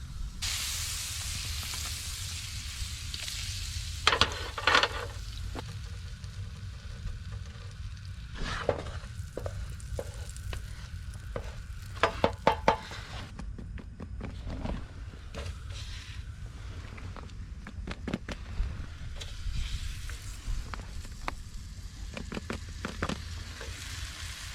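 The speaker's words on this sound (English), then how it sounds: "I'm gonna melt that down in the pan. This is gonna fry up nicely." Butter and ormers (Guernsey abalone) fry in a hot pan with a steady, loud sizzle throughout, punctuated by sharper crackles and spits and occasional utensil knocks.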